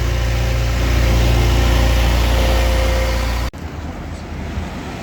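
A vehicle tows the boat Suakin on a trailer, its engine running with a loud steady close drone that cuts off abruptly partway through, leaving quieter rumbling behind.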